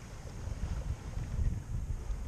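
Steady wind and gusts rushing over a sailboat during a regatta in 10 to 14 knots, a continuous low roar with rumbling microphone buffeting that rises and falls with the gusts.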